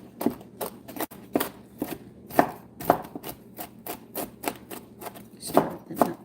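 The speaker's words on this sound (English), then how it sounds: "walnuts that we're chopping up." A knife chops walnuts on a cutting board in a home kitchen, a rapid run of sharp, close knocks in an uneven rhythm, heard alone without talk.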